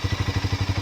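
Exhaust note of a Harley-Davidson X440 motorcycle at idle: a close, rhythmic low thudding of about a dozen evenly spaced pulses in under a second, heard alone.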